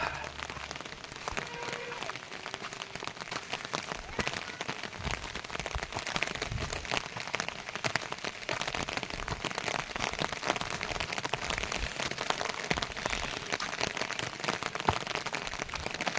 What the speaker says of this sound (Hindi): बोला छतरी लेके जा, बारिश आ रही है।